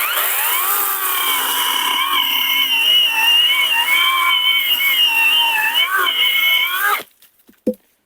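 Cordless ProCraft chainsaw powered by an ABS battery, a loud steady high-pitched motor whine with slight pitch wobble for about seven seconds, then cutting off abruptly, followed by a brief faint clunk.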